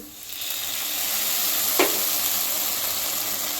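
Onions fry in a pan with soy sauce for restaurant-style egg manchurian, giving a steady, close, loud sizzle throughout with one brief utensil clink partway through.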